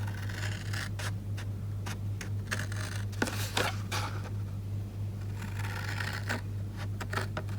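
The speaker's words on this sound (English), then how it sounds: "I'm going to bring in my large ribbon scissors" Large ribbon scissors cut through scored cardstock to shape the base of a box, giving a series of crisp, close snips and crunchy paper cuts in uneven bursts over a low background hum.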